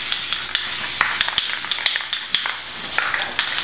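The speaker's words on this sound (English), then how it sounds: "so I've got some spray paint here." Bursts of aerosol spraying hiss repeatedly, broad and airy, with short clicks and taps between sprays, close by.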